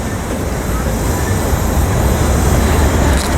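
A freight train begins passing at Riverside station, bringing a loud, steady, close rumble with a broad roar that keeps up throughout and shows no break.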